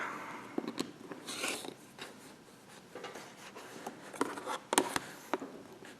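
Rotary cutter or blade slicing through quilting fabric squares on a mat, heard as a series of short crunchy cuts and clicks scattered irregularly, close and moderately loud with no talk.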